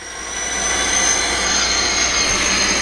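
A model train locomotive runs slowly along its track, producing a loud, steady whirring rumble with a high whine that swells in at the start and holds, without talk.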